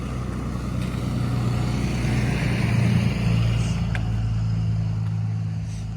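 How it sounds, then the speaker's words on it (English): A car passing on a quiet residential street, a steady low engine and tire rumble swelling and fading over several seconds, heard from nearby. "Of course, I say it's quiet and then there's a car."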